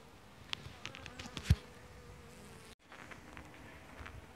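Honey bees buzzing steadily around an open hive during a summer inspection, a close, continuous drone with individual bees passing near, no talking.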